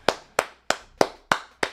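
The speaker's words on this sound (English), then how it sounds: "Clap it up to the Michigan Wolverines." Six sharp hand claps ring out at an even, deliberate pace, each crisp and close with brief silence between them.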